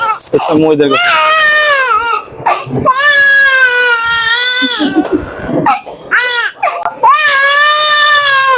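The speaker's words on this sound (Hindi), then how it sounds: "बच्चा रो रहा है आपके सामने।" A newborn baby boy wails loudly in long repeated cries with short gasps between them, close up, while an adult speaks briefly over the crying.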